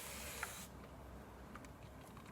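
Spray bottle misting water onto parted hair: one short hissing burst near and clear at the start, then a quiet room with faint small rustles.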